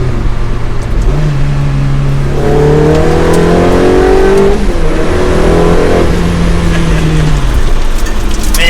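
A Ferrari 360 Challenge Stradale accelerating hard, its engine note climbing steadily through the revs, with a quick dip at each gear change before rising again, loud and close from inside the cabin.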